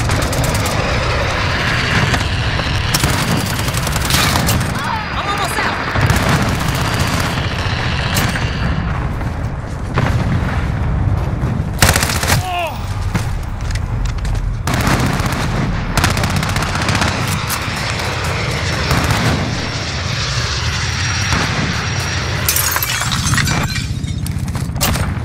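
Chopper gunner killstreak in a video game: sustained heavy automatic gunfire with repeated booming explosions and impacts, loud and dense throughout the whole stretch, with no talk.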